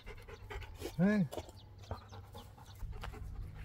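Belgian Malinois panting in quick breathy rhythm close by, with a short whining rise partway through, while a person speaks briefly over it in a campervan setting in the Peak District.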